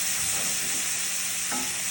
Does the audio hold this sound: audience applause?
no